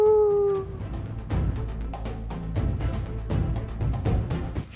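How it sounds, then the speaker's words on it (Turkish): A drawn-out wolf howl rises and fades at the start, followed by a busy jumble of yips, whimpers and scuffling noises from a pack of wolves close by. "Tek yapacağımız uluma seslerini takip etmek."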